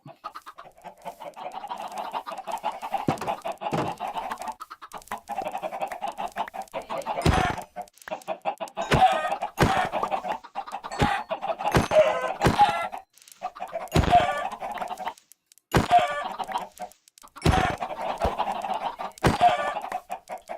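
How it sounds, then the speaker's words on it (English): Several Minecraft chickens cluck loudly and repeatedly close by, in uneven bursts with short pauses, and a rooster crows briefly among them. "I just want to get rid of some of these chickens. They're so loud."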